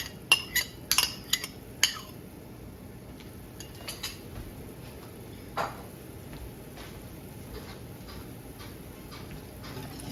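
Stirring a pot of wild rose jelly, a spoon scraping and clinking against the metal pot in several sharp taps early on, then softer scattered ticks.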